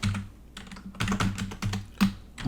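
A computer keyboard is typed on up close in quick irregular bursts of clicky keystrokes, entering a file name.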